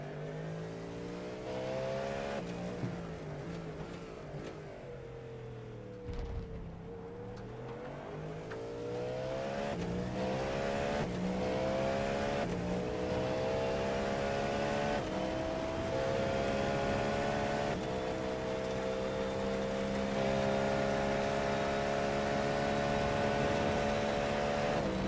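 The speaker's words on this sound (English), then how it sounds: "Listen to it purr here for a lap or so." A Cadillac race car engine in iRacing drones steadily from inside the cockpit at Le Mans, its pitch rising and falling as it shifts and revs through corners, loud and continuous.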